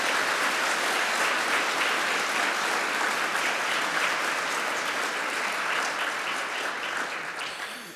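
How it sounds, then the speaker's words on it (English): Audience at a national health conference in Iceland claps after a speech: dense, even applause from a crowd holds steady for several seconds, then begins to thin out. "I think we should applaud Eric for his speech"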